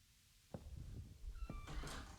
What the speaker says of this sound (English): I just heard a door before I went through it.